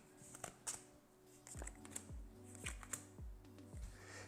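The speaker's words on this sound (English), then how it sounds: "we need to give our adventurer cards a quick shuffle and deal 1 at random to each player" Adventurer cards for the Forbidden Island board game being shuffled and handled at close range, a quiet run of soft slaps and riffling flicks in uneven bursts, with no talking.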